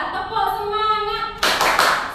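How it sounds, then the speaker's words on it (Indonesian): A classroom of students performs a rhythmic spirit clap, a burst of loud, dense applause-like clapping that starts abruptly about halfway through, after a stretch of voices chanting. "1, 2, 3, tepuk semangat."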